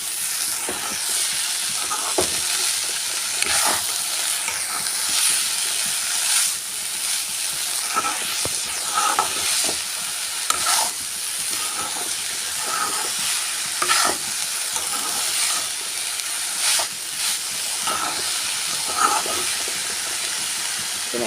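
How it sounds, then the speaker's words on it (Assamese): Fiddlehead ferns and lentils fry in a pan with a continuous hissing sizzle, while a utensil stirs them in regular scraping strokes and occasional sharp taps throughout. "ঢেকীয়াখিনিও দি দিছোঁ, ধুনীয়াকৈ লৰাই ল'ম।"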